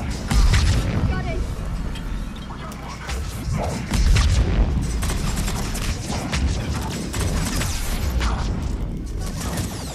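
A grenade goes off in the video game Mass Effect 3 with a heavy boom amid dense, continuous multiplayer combat noise of gunfire and clanking, loud and close, with a voice partly audible beneath the din.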